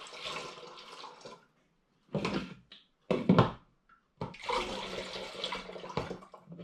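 Melted sugar and black treacle water is poured into several brewing vessels for an all-grain porter beer, in three or four separate splashing pours broken by short silences.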